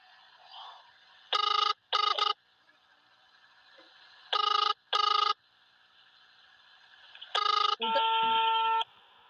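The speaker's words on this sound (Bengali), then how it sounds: "আমি এখন ফোন করব ওকে ফোন করতেছি" An outgoing phone call rings back in paired electronic tone bursts separated by pauses, repeating three times, with a steadier tone at the end as the call connects; no one speaks.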